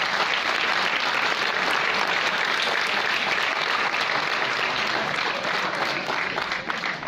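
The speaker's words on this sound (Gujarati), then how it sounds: "જે પ્રેક્ષકો નાટકો માણવા આવ્યા હતા તે કલાકારો માટે એક વખત જોરદાર તાળીઓ પાડી દે" An audience at a school one-act drama competition prize distribution gives sustained, loud, dense applause that holds steady throughout and fades slightly at the very end.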